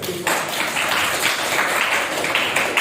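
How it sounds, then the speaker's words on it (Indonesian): Audience applause in a school classroom, a dense burst of many hands clapping that starts abruptly and carries on steadily and loudly to the end, with no talk over it. "Tepuk tangan dulu."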